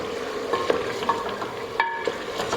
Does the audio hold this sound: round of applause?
no